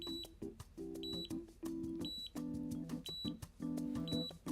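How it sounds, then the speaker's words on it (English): An automatic hair curler sounds a run of repeated electronic beeps, a steady series of short tones with brief gaps between them, close and clear with no talking. "It starts to beep."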